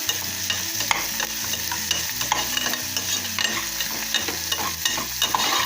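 A spoon stirs and scrapes through sizzling ingredients frying in oil inside a pressure cooker while tempering spices for green peas rice, with steady crackling under rhythmic scraping strokes and no voices.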